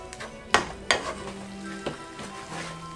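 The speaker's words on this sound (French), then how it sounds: "je vais mélanger légèrement, délicatement, hein, pour pas casser" Potatoes sizzle in a frying pan for tartiflette while being gently stirred, with a few sharp utensil scrapes and knocks against the pan over a steady soft frying hiss, close and with no talk.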